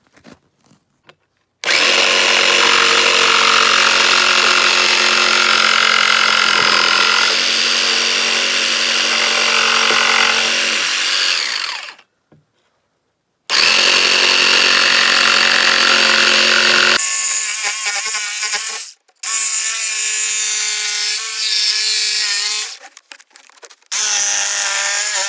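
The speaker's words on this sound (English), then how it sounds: "So the next step is we're going to start making our cuts with the jigsaw." A jigsaw cuts through wood for homemade alpine touring ski bindings, its loud buzzing whine running in long bursts and broken by short pauses and a few stop-start moments near the end.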